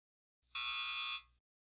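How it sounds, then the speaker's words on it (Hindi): A VIAVI FiberChek Sidewinder signals the end of an MPO fiber inspection test with a single loud, steady electronic buzz lasting just under a second, sounding alone against silence. "टेस्ट के आखिर में आपको एक बड़ा बजर सुनाई देगा जो बताएगा कि सब कुछ पूरा हो गया है"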